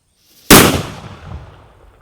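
A single sharp, loud bang from a jute-wrapped Diwali firecracker after brief quiet, its echo decaying over a second and a half.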